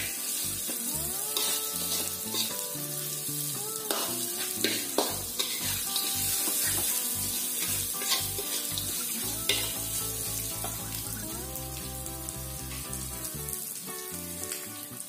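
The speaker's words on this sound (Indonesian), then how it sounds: "Aduk sampai bumbu benar-benar tercampur rata." Steady sizzling of grasshoppers frying in a pan with seasonings, with scraping stirring sounds, close and loud, while music plays throughout.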